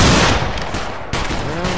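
A musket volley in the video game Battle Grounds III: loud, overlapping blasts crackle together in a short, dense burst. A second wave of shots follows almost immediately.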